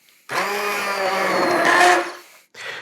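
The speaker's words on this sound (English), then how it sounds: "invest in a stick blender. And that's what I'm going to use." A handheld stick blender whirs loudly and steadily through hot carrot ginger soup for almost two seconds, its pitch shifting as it churns, then cuts off before a short second burst.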